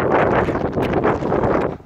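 Wind buffets a microphone during an outdoor walk, a steady broadband rumble and roar lasting the whole stretch with brief gusty swells, loud and close.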